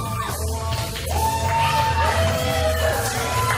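A crowd at a Twin City Wrestling live show in Liverpool yells and cheers loudly and continuously, with whoops rising over the general roar.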